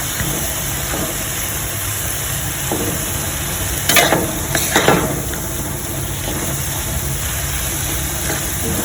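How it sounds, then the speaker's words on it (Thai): Vegetarian holy basil stir-fry with textured soy protein, straw mushrooms and long beans sizzles steadily in a pan, with a brief burst of spatula scraping and clattering midway, close up and without talking. "ผัดใบกะเพราให้ให้สุกกลับไปกลับมา"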